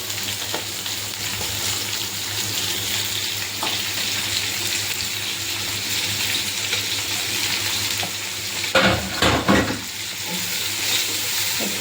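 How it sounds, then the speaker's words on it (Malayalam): Four large sliced onions sautéing in a pan, a continuous moderate sizzle with occasional spoon taps and a louder burst of scraping as they are stirred late on. "ഇളക്കി ഇളക്കി ഇളക്കി വേണം വഴന്നെടുക്കാൻ"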